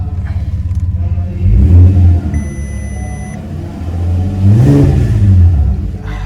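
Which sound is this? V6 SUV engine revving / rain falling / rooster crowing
V6 SUV engine revving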